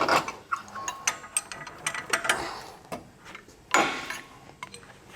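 A 21mm socket and wrench ratchets on the track bar bolt of a 2018+ Jeep Wrangler JL during a lift install: quick bursts of metallic clicking with short pauses, close and fairly quiet, no talk.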